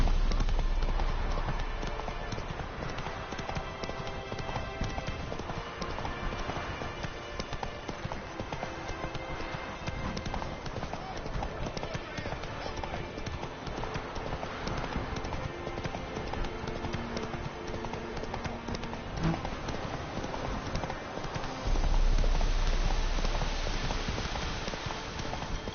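Roach, a horse in The Witcher 3: Wild Hunt, clip-clops at a steady run through a long, continuous stretch of hoofbeats over a busy game soundscape, with a brief louder swell near the end.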